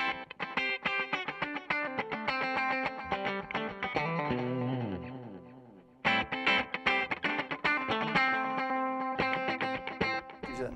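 Electric guitar played through a compressor pedal plays sustained chords and picked notes with an evenly squeezed, compressed tone, pausing briefly before resuming.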